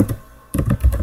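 A few close keystrokes on a computer keyboard, then a short pause and a faster burst of clicky taps, loud and right next to the listener.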